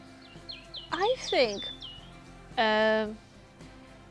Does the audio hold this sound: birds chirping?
yes